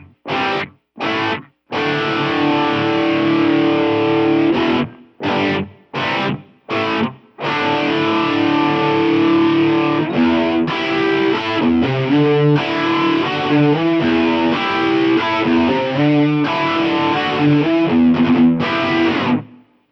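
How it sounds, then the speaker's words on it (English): Distorted electric guitar plays chords and riffs through an HX Stomp, opening with short stabs separated by gaps, each note trailing into the unit's wide, spacious hall reverb. "use the HX Stomp's own Hall reverb effect"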